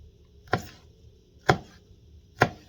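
Nakano kitchen knife chopping parsley on a board, three clean separate chops about a second apart, crisp and close with quiet between.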